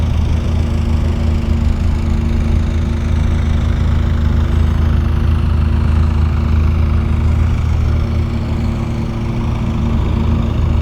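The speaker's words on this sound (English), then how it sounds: "we really do miss the sound of an engine, but it's really good that you can get your fix listening to these old boats" An old narrowboat engine runs steadily on the Grand Union Canal, a loud, continuous low chugging drone with a firm pulsing throb that holds unbroken throughout, with no voices.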